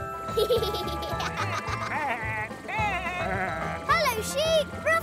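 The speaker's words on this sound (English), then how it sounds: "The sheep are in the field." Cartoon sheep in a field bleat repeatedly, several wavering baa calls overlapping and close, mixed with lively children's programme voices and music.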